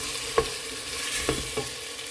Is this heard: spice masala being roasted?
yes